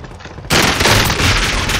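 Loud, dense gunfire in Warzone erupts abruptly after a brief quiet and continues as a sustained rapid burst, close and harsh.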